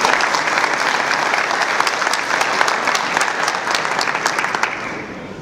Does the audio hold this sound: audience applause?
yes